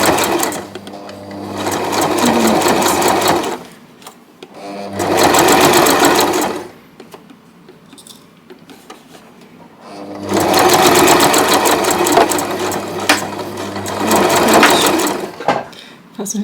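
Sewing machine stitching a backstitch near the edge of fabric for a bag, in two long loud bursts of rapid stitching separated by a quiet pause, with fabric handling between.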